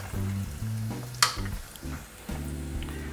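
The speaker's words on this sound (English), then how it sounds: "I just need to fry it till this brown." Onions frying in a pan for Goan fish curry give a soft, continuous sizzle under a low tonal hum, with one sharp utensil clink partway through.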